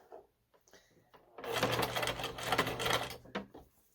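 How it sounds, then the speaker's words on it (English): A sewing machine runs in one steady, loud burst of rapid stitching on a homemade dog costume, with brief clicks and handling noises before it starts and as it stops. "And start sewing."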